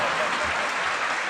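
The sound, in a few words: audience applause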